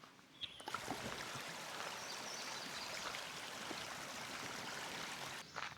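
A creek flows past a campsite at Beaver Creek Valley State Park in Minnesota's Driftless Area, giving a constant, fairly close rushing and gurgling wash of water with a few faint knocks at the start and end.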